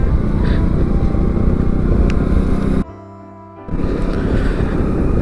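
A Jawa 42 2.1 motorcycle on the road gives a steady engine drone mixed with heavy wind rush, broken by a brief muffled dip before the roar returns.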